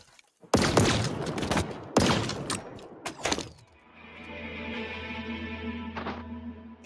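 Video game gunfire cracks out in heavy, booming bursts over the first few seconds, close and loud, then gives way to a steady humming drone with a final faint hit.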